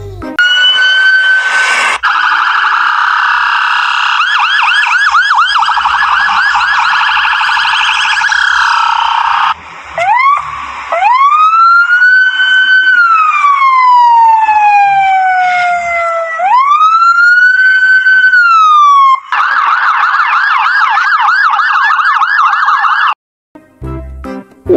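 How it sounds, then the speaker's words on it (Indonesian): Toy police patrol car siren, loud and close, cycling through fast electronic warbles, a slow rising and falling wail, then rapid warbling again before cutting off abruptly. "Yang ini ada mobil patroli polisi."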